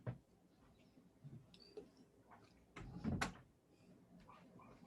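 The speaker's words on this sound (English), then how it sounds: "let me close that door" An indoor room door pushed shut, with light shuffling and small knocks leading up to a louder thud of the door closing near the end, heard close in an otherwise quiet space.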